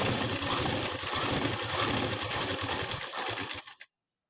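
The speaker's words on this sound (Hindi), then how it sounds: "इसको आप चाहें तो इसके ऊपर आप एक सिलाई मशीन लगा सकते हैं" A sewing machine stitches a blouse in a fast, steady mechanical whir, close and continuous before stopping abruptly near the end, with no talking.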